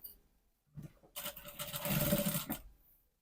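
A sewing machine stitches down and around the side of a trouser pocket in one short run of about a second and a half. The motor hums and rattles close by, rising and then stopping.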